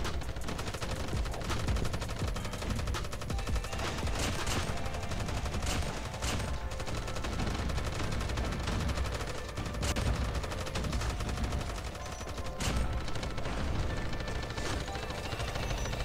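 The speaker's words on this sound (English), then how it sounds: "Let me shoot here." Continuous rapid gunfire in the zombie mode Undead Siege of COD Mobile, dense overlapping shots and bursts filling the whole stretch with steady loud combat noise.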